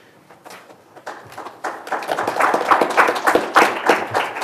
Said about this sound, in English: Don't clap for the city attorney.